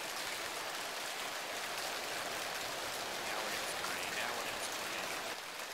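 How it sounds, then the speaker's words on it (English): Steady, dense rain hiss in the Arma 3 video game, resembling rain drumming on a tin roof, holding a constant level throughout with no clear voices over it. "Why does it sound like rain on a tin roof?"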